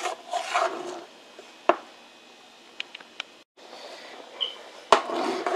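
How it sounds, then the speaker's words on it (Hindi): A ladle scrapes and stirs dal paste into a large pot of Hyderabadi mutton haleem, giving soft intermittent rubbing strokes with a few sharp knocks against the pot, at moderate volume and close by. "दालों का पेस्ट डालने के बाद इसको हम कंटिन्यूस पकाते जाएंगे और चमचा चलाते जाएंगे।"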